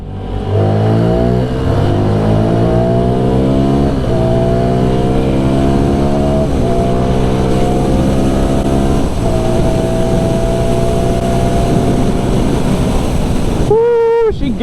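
A CF Moto NK 300 naked motorcycle accelerates hard in second gear on a roll-on, its engine note rising steadily in pitch for a long stretch, loud and close. It sounds like onboard riding with wind noise and no speech.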